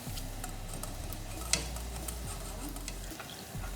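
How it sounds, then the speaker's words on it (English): Cashew nuts frying in hot oil for corn chivda, a steady soft sizzle with faint crackles throughout, close and continuous, with no talking. "So the next thing that we are going to fry are the cashew nuts."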